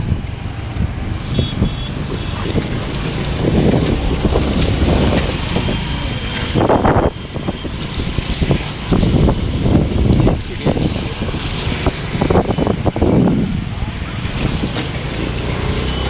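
Fast-flowing flood water of the Solani river rushes in a broad, loud, continuous roar, with gusty wind buffeting the microphone in surges and a few faint voices in the background.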